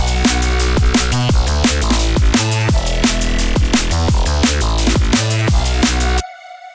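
Synth bass layered with two saw waves that have their fundamentals removed, playing a loud, punchy repeating pattern over a steady beat for about six seconds before cutting off abruptly.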